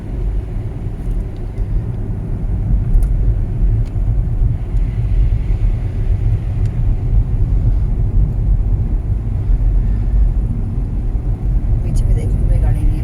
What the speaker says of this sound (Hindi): ये रात की प्रैक्टिस है, अंधेरे की, साथ ही बारिश में चलाने की